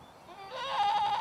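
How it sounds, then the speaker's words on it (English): A single goat on Goat Island in Murrells Inlet, South Carolina, lets out a loud, wavering bleat up close that rises and holds briefly. "these are not exactly normal goats"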